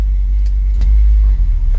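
A 1957 car engine idles steadily after a Holley carburetor install and distributor swap, a low continuous rumble close by with a few faint clicks over the top.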